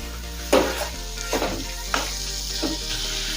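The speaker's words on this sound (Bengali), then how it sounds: "মশলার সাথে মাছের পিসগুলো একটু নেড়ে চেড়ে মিশিয়ে নেব" Fried prawn pieces get stirred into sizzling masala for prawn malaikari, with a soft steady sizzle under four distinct scraping stirs spaced roughly evenly, close by and moderately loud, with no talk.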